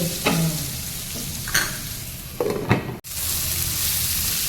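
Tomato gravy for a Surat-style cheese angoori dish sizzles and simmers in a pan, a steady close frying hiss broken by a few scraping stirs of a spoon, then a brief clatter before the sizzle resumes.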